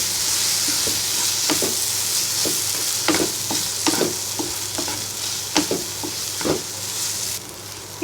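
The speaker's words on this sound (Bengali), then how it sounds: "এবার ভালো করে নেড়ে মিশিয়ে নিব।" Mashed eggplant being stirred into cooked tomato in a hot pan for homemade begun bharta, a soft steady sizzle punctuated by frequent irregular spatula scrapes and taps, close and loud.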